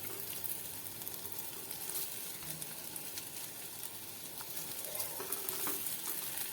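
Crushed boiled potatoes are stirred together with spices in a pan, giving a soft, low, even sizzle with faint scraping and stirring that continues steadily without talk.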